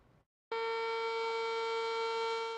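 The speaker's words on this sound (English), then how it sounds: "you probably heard the Floyd fire siren go off Sunday morning" The Floyd fire siren sounds after a brief pause, a loud, steady wail with strong harmonic tones that holds continuously to the end.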